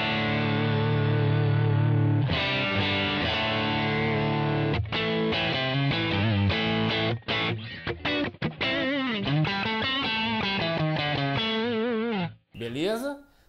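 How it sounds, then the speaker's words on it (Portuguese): Electric guitar played through overdrive and compressor pedals: sustained distorted chords that give way to a run of shorter, choppier notes, loud and close, ending with a brief cutoff. "Todos que vocês viram aí foi esse overdrive junto com o compressor ligado"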